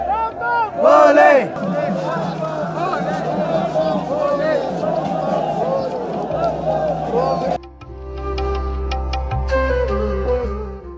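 A huge crowd of pilgrims at Kedarnath temple chants loudly in unison, a dense wall of voices with sharp shouted peaks early on, then gives way to a lower rumble with scattered bells and clanks.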